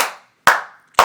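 Audience applause heard as three separate sharp bursts of clapping, each snapping in loudly and fading over a fraction of a second, close and clear with no voices.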